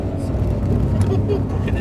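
A Mustang Shelby GT500 on a racetrack brakes and downshifts, its engine note dropping in a brief, loud, close burst inside the car while a voice speaks over it.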